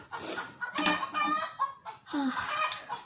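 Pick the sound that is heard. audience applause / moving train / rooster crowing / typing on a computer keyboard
rooster crowing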